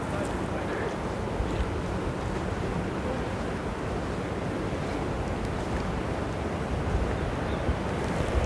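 Waves breaking on the beach at Nature's Valley on the Garden Route, a steady broadband wash of surf mixed with wind buffeting the microphone, continuous and moderately loud with no distinct individual breakers.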